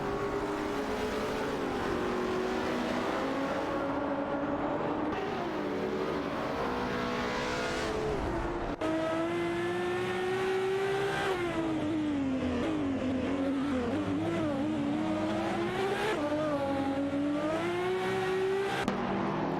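Race cars, including McLarens and a Mercedes SLR McLaren, roar continuously in a video game race, engines rising and falling in pitch with a gear shift or cut midway, loud and without talk.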